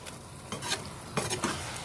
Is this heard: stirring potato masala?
yes